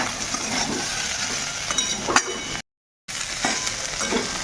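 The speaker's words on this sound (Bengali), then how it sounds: "আদা রসুনটা দিয়ে আবারও একটু মিনিট দুয়েকের মতন কষিয়ে নেবে" Ginger garlic paste sautéing in a pan, a loud close sizzle with scraping stirs that cuts out briefly before the frying hiss resumes.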